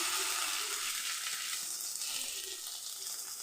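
Whole peppercorns and fennel seeds splutter in hot oil, a bright continuous sizzle with crackling bursts that swells midway, close and steady with no voices.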